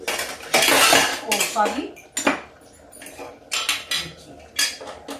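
Metal utensils clatter and scrape against a pan in repeated bursts while stirring toor dal, with a brief spoken phrase mixed in.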